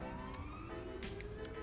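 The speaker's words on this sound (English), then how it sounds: "Somebody turn their fucking siren off." Police car siren in GTA V, a steady electronic wail with a rising tone, running close and loud throughout the short stretch with no talk over it.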